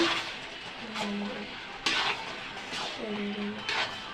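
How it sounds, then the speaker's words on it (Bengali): Boiled lungs and liver being stirred into spice paste in a pan, with a few scraping spoon strokes and metal clinks over a faint sizzle. "এবার আমরা ফ্যাপসা কলিজাটা মশলার মধ্যে দিয়ে দিচ্ছি এবং এটাকে ভালো মতো কষিয়ে নিব"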